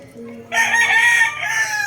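One three-year-old rooster lets out a loud, nearby crow that rises sharply and holds steady, with faint low murmuring before it.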